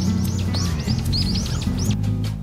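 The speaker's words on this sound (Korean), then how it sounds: "새소리도 들리고" Birds chirping and tweeting in Jasan Park, a quiet hilltop park near the sea in Yeosu, with repeated short rising calls over a steady low background hum.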